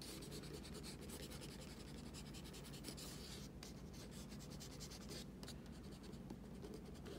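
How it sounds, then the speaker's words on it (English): A small mechanical pencil eraser rubs back and forth across drawing paper, quiet rapid scratchy strokes in a steady rhythm with brief pauses. "going with my good old handy dandy mechanical pencil eraser"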